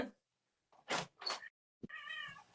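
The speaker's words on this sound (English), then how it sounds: "I have a crying cat at my door." A cat crying and meowing at a door, heard as a few short, faint calls closely spaced, ending in a longer drawn-out meow after a soft knock.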